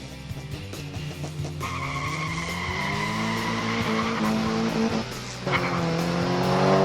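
Toy 1/64 scale diecast stock muscle cars race down a track with a rising whine and rolling roar that builds steadily, including a brief dip near the end, with no talk over it.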